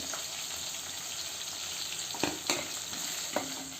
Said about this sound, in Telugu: చామగడ్డ ముక్కలు కూడా వేసేసుకోవాలి